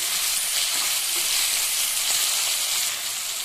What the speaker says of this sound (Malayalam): ഇത് ഒരു നല്ലൊരു ലൈറ്റ് ഗോൾഡൻ കളർ ആവണ വരെ വഴറ്റണം.